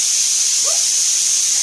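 Pressure cooker hissing steam, a loud, steady, high-pitched hiss that continues without a break throughout.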